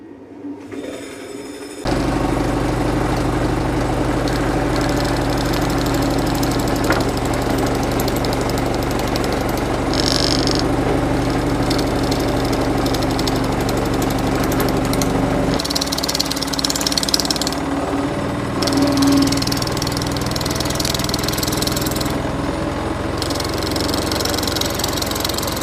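A wood lathe spins an out-of-balance spalted beech bowl blank, a loud, continuous motor drone with vibrating rattle that shifts in pitch partway through as the speed changes; no voices are heard.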